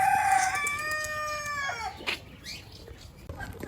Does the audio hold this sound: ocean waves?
no